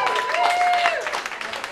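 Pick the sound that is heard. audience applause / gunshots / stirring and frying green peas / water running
audience applause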